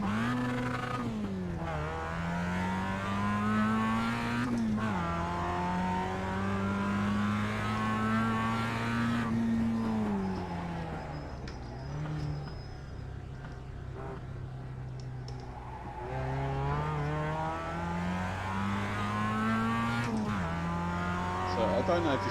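A race car circles a lap in the sim racing game iRacing, its engine whining up through the gears with repeated rising pitch sweeps, brief lifts and downshifts, loud and continuous, with someone talking over it.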